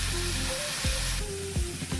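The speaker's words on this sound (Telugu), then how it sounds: "ఆయిల్ కాగింది కదా, చిన్న చిన్న ఉల్లిపాయ ముక్కలు పోసుకుని" Chopped onions and green chilies sizzle in hot oil in a pan, a close, steady frying hiss with brief stirring scrapes for a couple of seconds.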